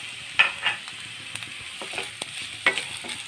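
Roughly chopped potato cubes tipped into a pan of frying onions, giving a few sharp clattering drops and stirring scrapes over a soft background sizzle, close up and without speech.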